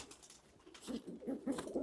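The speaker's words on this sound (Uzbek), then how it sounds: "Yari kaptarlar." Yari pigeons cooing in a loft, soft repeated throaty coos rising and falling over a murmuring background, fairly close and moderately quiet, with no talk.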